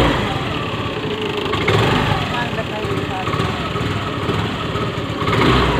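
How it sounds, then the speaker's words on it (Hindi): A scooter engine idles steadily while it warms up, a close and continuous low motor hum that holds for the whole stretch, with a person talking over it. "अभी स्कूटी का इंजन मम्मी गर्म कर रही है"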